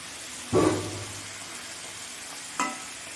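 Spices with water and chopped tomato are stir-fried in a pan, giving two short bursts of sizzling and stirring scrapes separated by a quiet pause, close and fairly soft.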